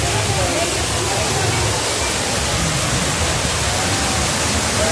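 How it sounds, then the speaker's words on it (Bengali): A park fountain sprays water in a steady, loud rushing hiss, continuous and close, with no break. "তাই বেশ কিছুক্ষণ ঝর্ণার ওখানে দাঁড়িয়ে আমরা ঝর্ণার বর্ষণটা উপভোগ করে নিচ্ছি।"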